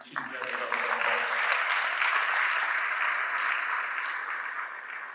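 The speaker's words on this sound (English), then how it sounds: "I think she deserves a lot of applause" A crowd at a formal state dinner celebrating a centenary breaks into sustained applause, a dense, even wash of many hands clapping that holds steady throughout after a brief voice at the start.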